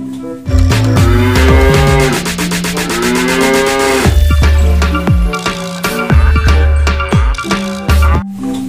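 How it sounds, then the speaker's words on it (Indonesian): Loud, drawn-out mooing from a piebald cow in the video game Jurassic World Evolution 2 fills the clip, repeated deep bellowing calls layered with a busy, rhythmic backdrop. "ada sapi belang"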